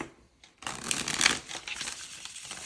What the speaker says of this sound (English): After I already shuffled them?